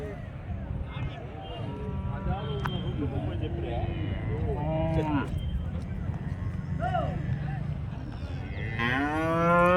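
Calves at a cattle sale in Chintamani moo repeatedly, with short and long calls scattered through the clip and a loud, close one at the end, under ongoing conversation and market bustle.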